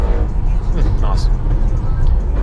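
A C7 Audi RS6 fitted with APR downpipes and stage 2 software launches hard, its loud engine roar steady and close throughout, with a voice talking over it.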